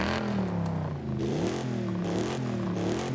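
A car fitted with a new exhaust in the racing game Forza Horizon 5 revs repeatedly, its engine note climbing and falling in several close, loud waves, with no voices over it.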